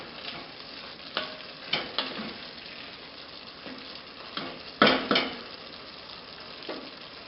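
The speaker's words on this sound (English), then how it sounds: "We're going to let this simmer for a couple of minutes, maybe 2 or 3." Vegetable curry simmering and sizzling in a pan, soft bubbling under a few sharper clicks of a spoon stirring or tapping, one louder scrape near the end, close and fairly quiet with no talk.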